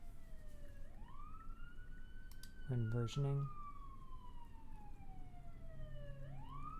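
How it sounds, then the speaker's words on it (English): A police siren wails in long rising and falling sweeps, fairly close, while a voice speaks briefly in the middle. "Fucking police sirens."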